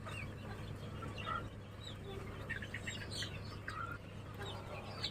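Chickens cluck and call in short bursts over a steady low hum, fairly distant and soft, with faint bird chirps scattered through the background of a poultry house.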